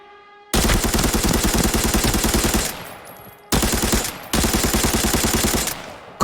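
Automatic AK102 rifle fire in the shooter game Arena Breakout: two long, loud, rapid bursts of evenly spaced shots with a short gap between them, then a final shot starting at the end.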